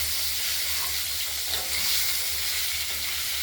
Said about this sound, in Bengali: আলুটা ভাজা হোক, তারপর দেখাচ্ছি